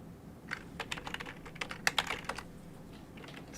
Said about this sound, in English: Let's type into it.